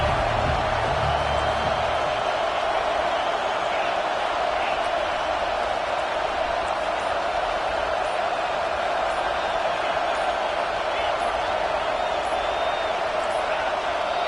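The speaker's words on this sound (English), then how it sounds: "This crowd bringing the energy and noise early." Loud, constant roar of a large football stadium crowd, a dense wash of voices and cheering that never lets up; low rumble briefly at the start.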